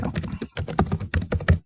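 Keys clatter on a computer keyboard as a new username is typed, a close, quick run of uneven taps in short bursts with brief pauses between them.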